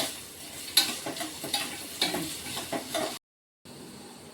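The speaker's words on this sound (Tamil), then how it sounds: "இப்போ நம்ம வந்து தேங்காயவும் முந்திரி பருப்பையும் நல்லா நெய்யில் வறுத்து வச்சுருக்கோம்" Coconut and cashews frying in ghee for black rice payasam, a steady close sizzle with regular stirring scrapes, cutting out abruptly to a brief silence before resuming faintly.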